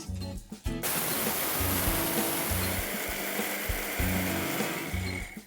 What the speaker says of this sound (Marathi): आता हे वाटून घ्यायचं आहे.